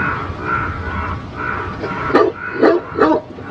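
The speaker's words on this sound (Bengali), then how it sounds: "হঠাৎ আমার পিছনে কুকুর ডেকে উঠল।" A cartoon dog barks behind the listener in a dark bamboo grove by a roadside, several sharp barks arriving near the end over a quiet night background of faint insect-like hum.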